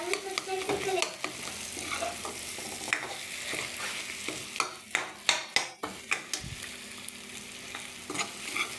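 Tomato masala sizzling in a pan as a spoon stirs and scrapes it, a steady frying hiss with a burst of quick, sharper clinks and scrapes toward the middle, heard up close.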